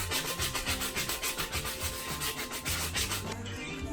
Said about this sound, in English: and hello to the electric sander